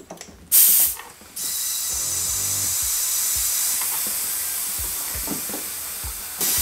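A Porsche 996 Turbo engine with a large vacuum leak gives a continuous broad hiss with faint mechanical ticking beneath, close to the bay, after a brief louder burst near the start.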